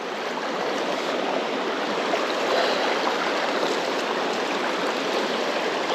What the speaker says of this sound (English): But very clear, very cute little river. Creek, I'd say.